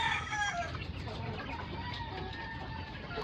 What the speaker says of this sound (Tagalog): Yan, malaking manok.